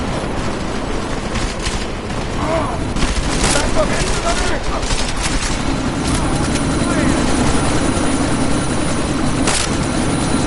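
Helicopter rotor thrum in a video game set during a sandstorm, a steady loud wash of engine and wind noise with scattered gunfire and booms, plus talk over the top.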